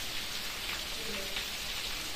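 Heavy rain falls in a village in the Parbhani district, a dense, even hiss of drops hitting surfaces, close and constant throughout.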